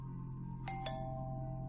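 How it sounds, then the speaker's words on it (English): A two-tone doorbell chime rings once, ding then dong, with a clear lingering tail over a quiet low hum. "A little while later, the doorbell rang."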